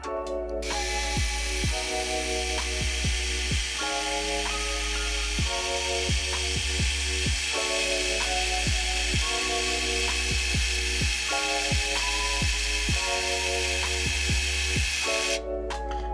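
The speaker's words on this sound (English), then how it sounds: "I'm going to grab my electric driver and I'm going to thread that M3 nut, or that M3 screw" An electric driver threads an M3 screw into a lock nut. It gives a continuous whining drive with many short clicking stops and starts over about sixteen seconds, close and steady.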